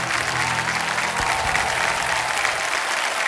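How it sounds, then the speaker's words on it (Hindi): Studio audience applauding a contestant on the quiz show KBC India, a dense, steady wash of clapping throughout with a faint crowd murmur underneath. "एक बार तालियों के साथ इनका हम अभिनंदन करते हैं"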